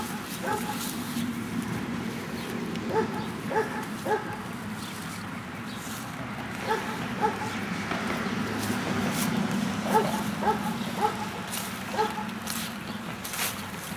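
Several dogs yip and whimper in short clustered bursts over a steady outdoor rumble, with a dog being introduced to others and sniffing around them; the yelps recur every few seconds at moderate distance.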